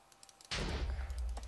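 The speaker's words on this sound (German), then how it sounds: "da war eine Explosion" A sudden burst erupts in a Minecraft game after faint clicking, a loud broadband blast that stays as a rumbling roar for the rest of the moment.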